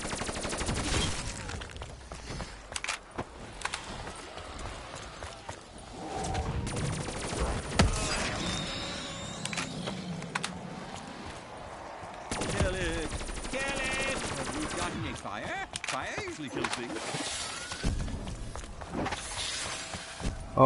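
Dense, near bursts of rapid gunfire aimed at zombies in a video game, sustained volleys with cracks and shattering, and a voice talking only faintly underneath.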